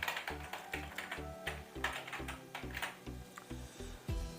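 A RedGear RGB semi-mechanical gaming keyboard is typed on close by in quiet surroundings, giving a quick, steady run of soft clicky keystrokes.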